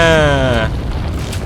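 Grenade explosion in Resident Evil 4, a loud deep booming blast rolling off into rumbling noise, heard over a tonal game sound that cuts out partway.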